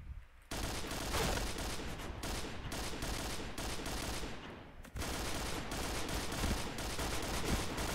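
Dense, continuous bursts of automatic gunfire from the online shooter game Point Blank, loud and packed with rapid shots, broken by a brief pause partway through, with no talk over it.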